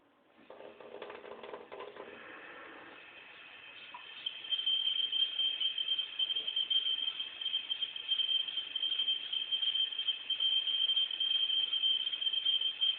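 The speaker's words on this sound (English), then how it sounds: "it gets that weird screaming high-pitched sound" A kitchen faucet running about halfway open gives off a steady, piercing high-pitched whine that grows louder after the first few seconds and holds without a break, with running water and faint clatter underneath.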